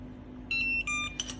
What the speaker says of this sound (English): I will get an alarm.